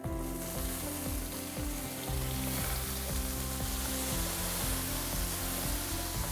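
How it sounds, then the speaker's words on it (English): Cooked chickpeas tumble into a sizzling kale and chickpea curry pan, giving a steady close frying hiss with soft scraping stirs throughout and no voices. "now in go cooked chickpeas"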